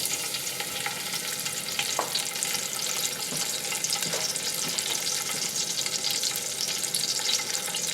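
Smashed garlic sizzles and fries in a hot pot, a steady broadband crackle and hiss that holds close and even throughout, with a few faint stirring knocks.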